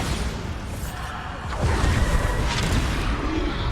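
A Bombarda spell explodes in the video game Hogwarts Legacy, a dense rumbling burst that swells into a sustained, noisy roar amid other busy game effects.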